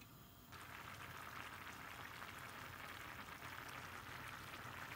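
A covered pot of small fish and potato curry boils on the stove, giving a steady, fine bubbling hiss that runs evenly throughout, with no talking.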